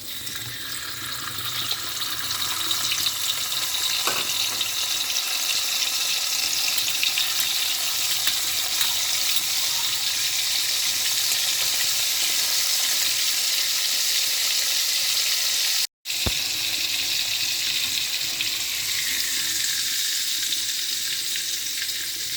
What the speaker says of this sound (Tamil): நான் தங்கீரி கருவாடு கூட எடுத்திருக்கேன். இதையும் பொரிச்சிக்கலாம்.